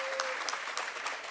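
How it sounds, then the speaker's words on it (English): A crowd at a Women's Month celebration gives a short burst of steady applause, dense clapping heard alone at moderate volume. "You now can give yourselves a round of applause."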